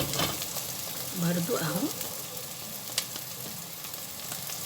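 Bell peppers frying and being stirred in a hot pan while making Saudi kabsa with rice and chicken, a steady sizzle with light stirring scrapes, and a brief voice speaking midway.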